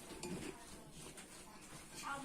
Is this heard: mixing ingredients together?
yes